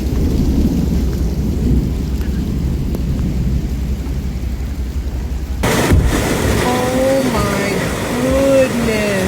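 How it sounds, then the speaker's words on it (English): Hail from a supercell thunderstorm over the Arkansas River Valley makes a continuous loud roaring wash of impacts, joined midway by a burst of crackling noise and faint wavering tones. "a series of supercell thunderstorms dumped a staggering volume of hail across the region"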